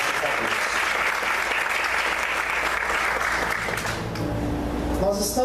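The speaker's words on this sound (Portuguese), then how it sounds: "Você pode aplaudir o Senhor com alegria?" Congregation in a church service applauds with joy, a steady, dense clapping that continues evenly and begins to thin near the end as a voice starts speaking.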